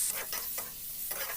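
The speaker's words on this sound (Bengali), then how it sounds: "সবগুলো আবার হাত চালিয়ে একটু নাড়িয়ে চাড়িয়ে নিলাম।" Onion, potato, garlic and grated ginger are stir-fried with a spatula for an omelette curry, with a continuous sizzle and several quick scraping strokes, close and fairly quiet.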